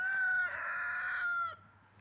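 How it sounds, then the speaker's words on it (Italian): A rooster crows once, close and loud, a single drawn-out harmonic call lasting about a second and a half before trailing into quiet farmyard background. "abbiamo i galli"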